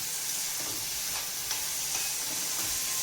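Soaked masoor dal lentils fry in hot oil with a continuous, even sizzle close by, and faint stirring taps sound now and then, with no voices.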